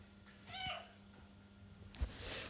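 Onyx, a house cat, gives a single short meow, quiet and close, followed by a brief rustle against a faint hum.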